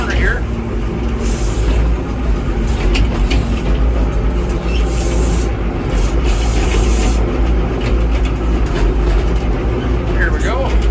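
A Massey Ferguson 1800 tractor moves along a road toward a corner, its engine a steady, loud low drone with rumbling and rattling that stays constant throughout, with no pause and no talk over it.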